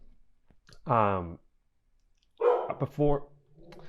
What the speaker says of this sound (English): my dog just barked